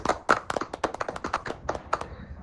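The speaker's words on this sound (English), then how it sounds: "we can make a round of applause for all the panelists of the next last very rich panel" Applause from a conference audience greeting panelists as they come on stage, a scattered, uneven patter of many hands clapping fairly close, with no talk over it.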